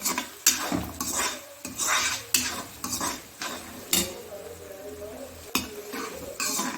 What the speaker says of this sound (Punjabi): ਤੇ ਹੁਣ ਆਪਾਂ ਇਹਦੇ ਚ ਪਾ ਦੇਵਾਂਗੇ ਜੀ ਸੌਂਫ ਹੁਣ ਆਪਾਂ ਇਹਨੂੰ ਹਲਕਾ ਜਿਹਾ ਭੁੰਨ ਲਾਂਗੇ